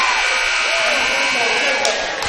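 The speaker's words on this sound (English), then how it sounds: "And the buzzer." A loud, sustained electronic buzzer sounds at the end of a high school boys' basketball game in a gym, holding steady for a couple of seconds amid crowd noise and commentary.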